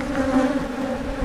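Bees swarming around a hive during the removal of an aggressive queen, a close, steady buzzing drone filling the brief moment.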